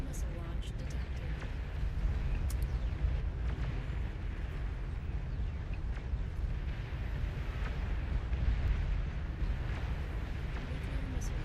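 Nuclear missile strike in the strategy game Beyond All Reason, a rumbling, crackling explosion with scattered bursts and pops running low and steady throughout, talk mixed in around it.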